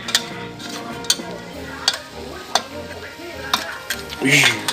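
Crab and rice stir-fried with egg in a pan, a steady sizzle under a run of sharp utensil scrapes and clinks against the pan, with a louder burst of frying near the end.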